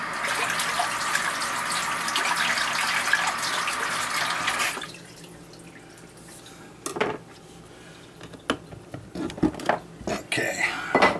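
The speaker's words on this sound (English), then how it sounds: "let me wash it" A kitchen knife being rinsed under a running tap, steady gushing water in a sink for about five seconds, then quieter with scattered clinks and brief splashes as the washing ends.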